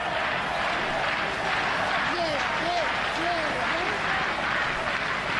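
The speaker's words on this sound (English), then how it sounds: "A rather sparse home crowd trying to make a little bit of noise." Sparse home crowd at a Zebre versus Ulster rugby match making a little noise, a steady far-off wash of cheering and murmur with a commentator's voice running over it throughout.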